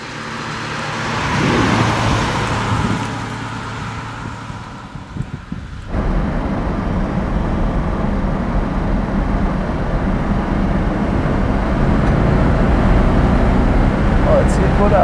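A 1971 Mercedes 280 SE 3.5 coupé with its 3.5-litre V8 pulls away from inside the cabin, a steady engine roar under wind and road noise, with a voice heard early on.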